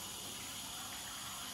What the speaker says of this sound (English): I'm just gonna give my hands a little quick wash